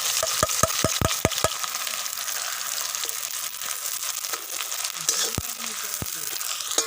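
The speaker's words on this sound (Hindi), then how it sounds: "घी हमारा गर्म हो चुका है। अब इसमें हम प्याज डालेंगे।" Onions frying in hot ghee in a karahi for chicken karahi, with a constant crackling sizzle, a quick series of sharp spoon knocks near the start and a few later ones.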